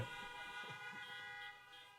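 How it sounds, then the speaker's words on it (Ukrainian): A car horn honks in a sustained, steady blare for about two seconds, loud and close, fading slightly near the end, with no talking over it. "Це амінь мовою клаксона"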